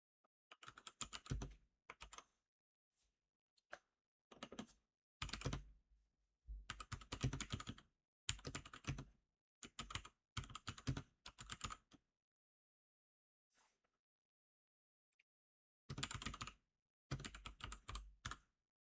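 Bursts of typing on a computer keyboard during late-night coding homework, close and clear, with quick rattling keystrokes in short runs separated by quiet pauses.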